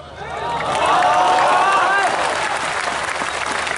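Hands clap in a crowded lecture hall during an Islamic sermon, a dense, loud wash of applause swelling up then holding steady, with crowd babble mixed in.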